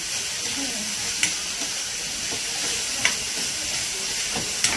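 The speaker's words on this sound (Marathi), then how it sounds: "थोडं मोठ्या ह्याच्यावरच गॅसवर असं परतून घ्यायचं. पटकन परततो कांदा." Onions sauté in a pan over a gas stove, giving a steady close hiss and sizzle with a few faint clicks of the spatula.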